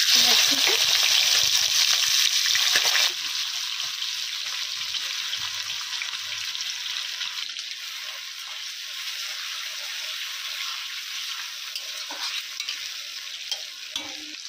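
Cumin seeds fry in a pan, giving a bright loud sizzle that drops to a steadier, softer hiss after a few seconds as more ingredients go in, with occasional stirring taps and no speech.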